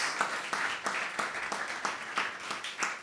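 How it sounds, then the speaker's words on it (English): Applause at an anniversary symposium, sounding like a small group or a few people clapping in a fairly regular rhythm, somewhat distant and quiet. "Give them a round of applause."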